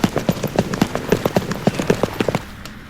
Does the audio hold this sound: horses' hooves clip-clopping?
yes